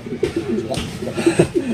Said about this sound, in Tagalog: Ayan na ibon natin.